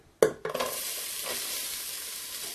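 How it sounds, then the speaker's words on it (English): Onions hit a hot pan with a sharp burst, then settle into a steady, close sizzle and crackle that continues evenly. "And you can hear it sizzling."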